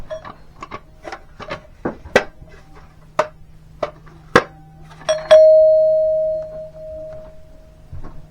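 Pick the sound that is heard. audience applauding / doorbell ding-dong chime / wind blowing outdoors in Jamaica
doorbell ding-dong chime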